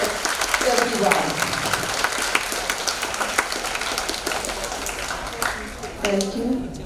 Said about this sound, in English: So let's clap for everyone.